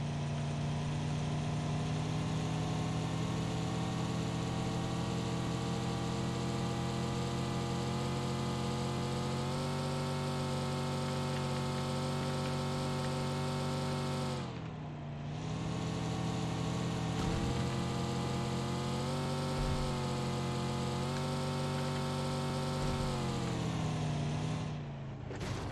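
Car engine in the game PUBG Mobile drones at a steady pitch throughout, loud and close, with two brief dips where the tone drops and recovers.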